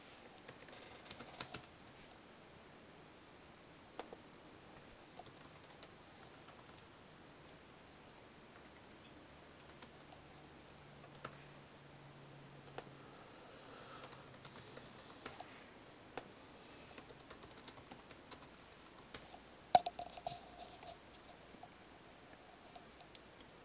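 Typing on a computer keyboard to enter content into table cells comes through as faint, sparse key clicks. The taps are scattered irregularly over a quiet background hiss, with no voices.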